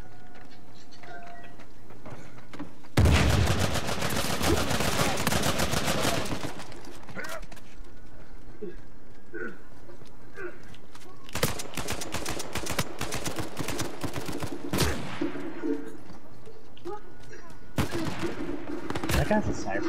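Enemy gunfire in the Uncharted video game: sustained rapid automatic bursts, loud and close, broken by pauses and then renewed volleys, with speech underneath at times.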